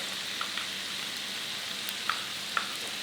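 Garlic cloves frying in a pan give a steady soft sizzle, with a few small pops and crackles scattered through it and no talking.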